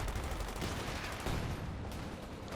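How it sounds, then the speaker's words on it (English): A Jagdpanzer tank destroyer firing in the Company of Heroes 2 battle game, set in a steady wash of dense gunfire and combat noise that holds at high loudness throughout. "Jagdpanzer firing around the center here"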